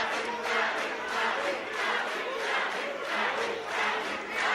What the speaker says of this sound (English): the crowd screaming